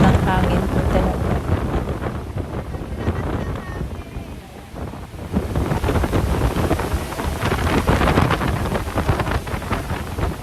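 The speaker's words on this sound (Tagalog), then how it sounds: "pero sobrang po lakas ng hangin po talaga" Strong wind sweeps across the open Chocolate Hills in Bohol, buffeting the microphone with loud, continuous rumbling gusts that ease briefly midway before building again.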